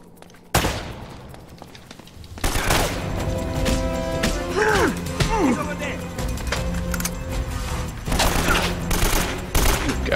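Gunfire in Uncharted: Drake's Fortune, with bursts of rapid shots breaking out after a quiet start and continuing in clusters, mixed with game effects and a voice speaking over the action.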